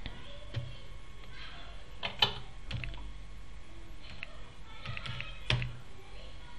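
Keys on a computer keyboard are pressed in short irregular bursts of clicks and taps, close and fairly quiet, against a faint background hum with no talking.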